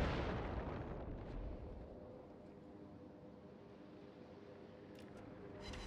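Naval gunfire in World of Warships, with shells scoring a citadel hit on a Baltimore cruiser: a faint, low booming roar that rolls out and slowly fades into a dull rumble, with no talking.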